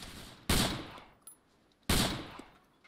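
Two loud, sharp gunshot bursts from the Vietnam War video game COT Vietnam, about a second and a half apart, each with a decaying echoing tail and faint game ambience between them.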